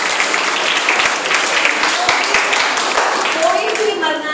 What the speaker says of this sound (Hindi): शाबाश, जोरदार तालियां